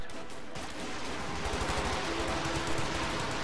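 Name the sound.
Stuka firing rounds in a video game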